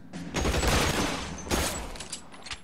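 Burst of video game gunfire, dense rapid shots in a loud fusillade that swells, dips and flares again, with no voices over it.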